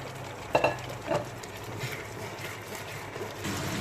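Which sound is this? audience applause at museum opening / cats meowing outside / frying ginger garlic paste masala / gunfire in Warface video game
frying ginger garlic paste masala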